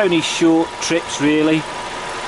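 A car engine with a suspected head gasket fault, treated with Steel Seal repair liquid, idles as a low steady hum beneath someone speaking close up throughout.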